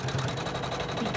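An embroidery machine stitches a double run on an in-the-hoop bag, giving a fast, steady, moderately quiet mechanical whir throughout the short moment.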